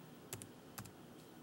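A computer keyboard is typed on quietly, with two quick pairs of light key clicks and a fainter tap over a low hum, and nobody speaking.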